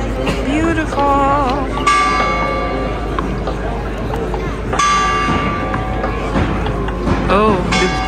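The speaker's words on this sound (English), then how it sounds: "Oh, the church bells are ringing." Church bells ringing in Venice, Italy, several loud overlapping peals with bright ringing tones, heard outdoors amid crowd chatter and people talking nearby.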